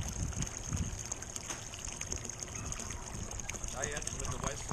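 A pump pushes water into a swimming pool, a continuous splashing, gurgling flow heard close by under intermittent voices talking over it.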